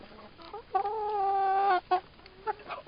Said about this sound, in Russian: А это петушок.